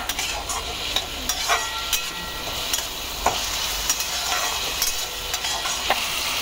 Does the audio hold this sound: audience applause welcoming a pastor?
no